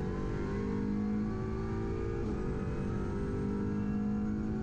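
An Audi RS3 LMS touring race car accelerates onboard on the Nürburgring Nordschleife, its engine droning loud and steady with a constant harmonic roar and no talking.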